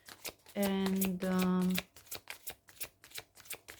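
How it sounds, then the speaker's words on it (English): Tarot cards are shuffled close by with a riffling flutter, then a run of crisp rhythmic card flicks and taps, while a voice speaks briefly over the shuffling. "while I shuffle through the cards"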